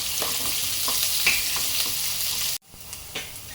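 Chopped onions fry on a high flame for spicy rice, giving a steady loud sizzle with a few soft stirring scrapes, then the sizzle drops away abruptly and resumes more quietly.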